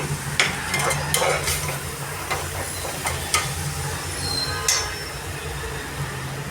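Basmati rice stirred and frying in a pan, a steady sizzle with repeated scraping stirs and clinks throughout, close and fairly loud with no talking.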